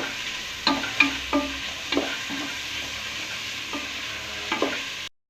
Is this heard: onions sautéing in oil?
yes